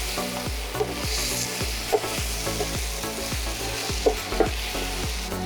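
Fried fish heads tossed with spices and tomato in a pan for a Bengali moong dal, a continuous bright sizzle with rhythmic spatula scrapes and occasional sharper knocks, close up.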